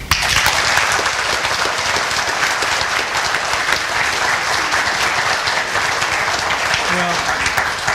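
Sustained applause from a conference audience welcoming a panel at a NATO at 70 event, steady dense clapping from a large crowd throughout, loud and close.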